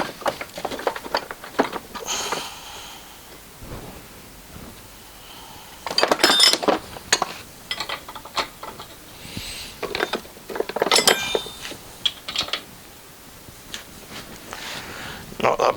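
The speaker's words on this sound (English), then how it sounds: "let's try a real spanner on it" Spanner working on an air valve fitting during a four-way protection valve and air dryer strip down, with metallic clicks, clinks and ratcheting scrapes in irregular bursts, louder around six and eleven seconds, with a voice speaking at times.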